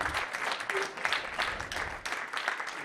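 Audience applause at an art exhibition opening at a modern art museum, moderately loud clapping from a gathered crowd rising and falling in dense waves throughout.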